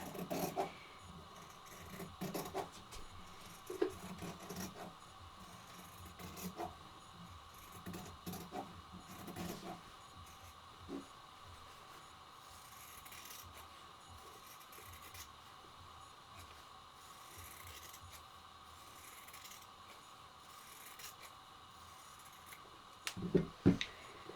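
Scissors cutting through two folded, pinned layers of fabric for reusable sanitary pads, a long run of quiet, irregular snips and soft rubbing crunches, close and faint, with a few sharper clicks at the end.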